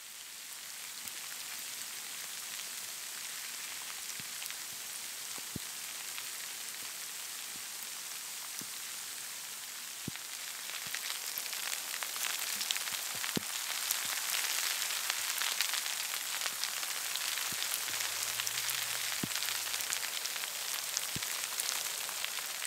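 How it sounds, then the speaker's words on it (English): Ice pellets of hail patter and tick sharply on the fabric of a small hot tent during a winter camping storm, a dense steady hiss with distinct individual hits that grows louder partway through. "It's hail coming down right now. These are ice pellets hitting me right now."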